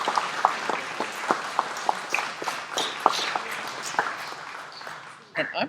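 An audience at a trauma system of care 30th anniversary event claps, a steady patter of scattered hand claps with a voice speaking over it, fading toward the end.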